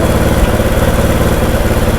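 A motorcycle engine idles loudly and close up with a steady, throbbing pulse while its carburetor is being adjusted for mileage, with no voices over it.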